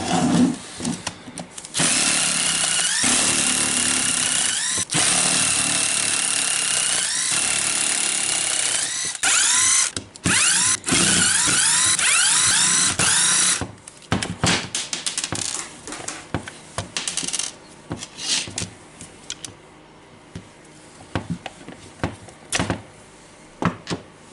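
A Milwaukee M18 FMTIWF12 cordless impact wrench with an intermittent fault runs loudly in sustained bursts of several seconds with short gaps, then turns into choppy stops and starts, heard close with no talking.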